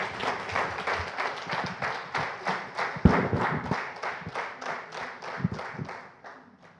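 An audience at a Hungarian lecture hall welcoming a professor with warm applause, a steady, rhythmic wash of many hands clapping in unison that swells and then fades away, with no voices over it.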